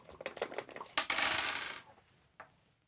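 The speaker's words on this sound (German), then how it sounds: "Ihr könntet sehr gerne noch würfeln." Dice rolled during a game at a podcast table, a quick run of hard clattering rattles and a louder tumble, then one last small click alone.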